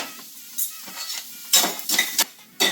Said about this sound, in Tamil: இந்த எண்ணெயில் நல்லா வதக்கணுங்க